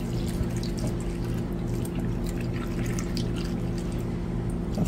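Coconut milk pours in a steady liquid stream, a continuous soft trickle and splash with occasional drips, close and even throughout.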